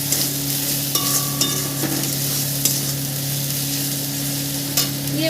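Chicken cooking with coriander powder in a pan is stirred, giving a steady oily sizzle with occasional sharp scrapes and clicks of the spoon against the pan, close up and alone, with no talk.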